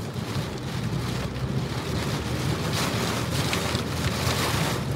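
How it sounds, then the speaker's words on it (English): Heavy rain during a storm heard from inside a moving car, a steady dense roar of rain and road wash with low rumble, constant and loud throughout with no talking. "Jeez, this is a lot of rain."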